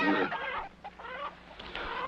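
Several chickens clucking nearby in short, uneven bursts, with brief quiet gaps between calls.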